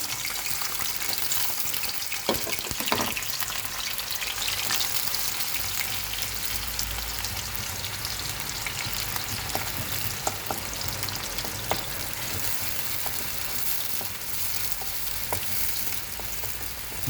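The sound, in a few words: onion, green chili and garlic frying in oil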